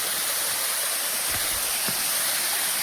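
Water flowing down a hillside at Byrappa Falls near Kuruvinakoppa gives a steady, dense roaring hiss at moderate level, unbroken and without voices, with a couple of faint low thumps.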